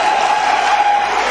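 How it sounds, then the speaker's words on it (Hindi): An audience claps steadily as a dense, even wash of applause, loud and close, holding without pause for the whole moment. "ताली बजाओ"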